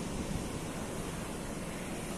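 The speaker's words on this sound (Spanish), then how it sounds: "como hace mucho ruido aquí de olas y viento" Ocean waves and wind on a beach make a steady, dense roar of noise throughout, continuous and fairly close, with no voices.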